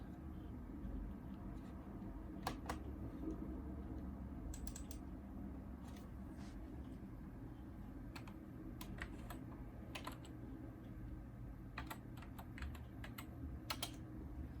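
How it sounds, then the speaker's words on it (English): Irregular bursts of computer keyboard typing, clicky and fairly close, scattered over a steady low background hum. "Again, excuse the typing."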